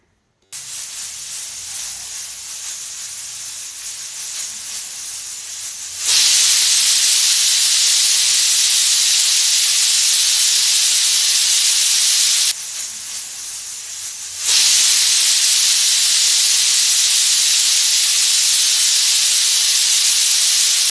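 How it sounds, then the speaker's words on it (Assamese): Pressure cooker with jackfruit curry on a gas stove venting steam, a loud sustained hiss in two long bursts separated by a quieter gap, with softer hissing before each burst. "এতিয়া মই দুটা সিটি মাৰিবলৈ দিম"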